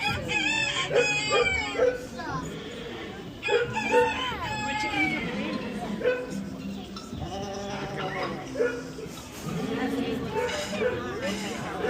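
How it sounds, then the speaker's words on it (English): A rooster crows repeatedly amid other farm animal calls, including bleating, with people talking over the sounds. "A rooster."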